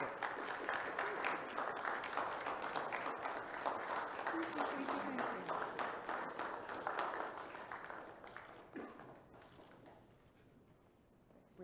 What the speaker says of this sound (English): Would you please give her a hand of applause